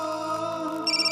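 A phone rings in a drama scene, a steady electronic ringtone tone pattern that brightens into a higher repeating chirp near the end, heard alone with no talking.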